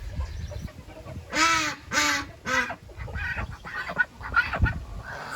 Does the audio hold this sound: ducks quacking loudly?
yes